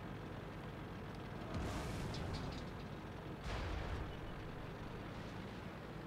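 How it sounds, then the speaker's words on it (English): Tank cannon fire in World of Tanks as an IS-7 trades shots with an IS-4: two heavy, booming blasts about two seconds apart over a constant low rumble, no talking. "The IS-7's been spotted and he's exchanging fire with that IS-4"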